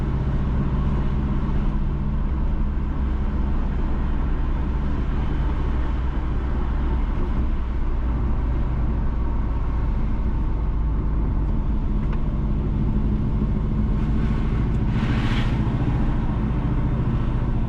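Steady car engine and road rumble while driving along the A3 Agualta Vale to Broadgate Road near Broadgate, St Mary, Jamaica, a continuous close drone with no speech.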